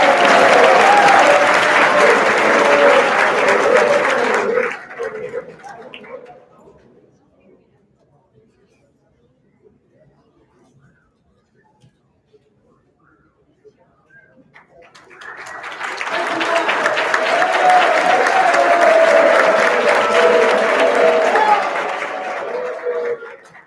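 An audience at an awards convocation applauds loudly for several seconds. The clapping fades to near silence, then a second strong round of applause swells up and carries on to the end.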